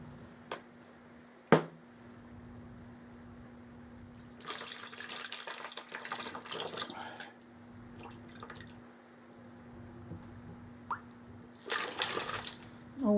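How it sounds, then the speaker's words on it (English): Water pours from a jug to rinse a part during restoration of a Crosman 760 airgun. There are two bursts of splashing pouring, a few seconds each, with scattered drips and small clicks between them and no talking. "now we gotta rinse it off"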